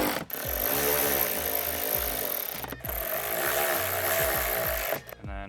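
A power tool drives 10 mm bolts into a rear door Molle panel on a Nissan Xterra, running in three loud, close bursts of whirring and ratcheting with brief pauses between them.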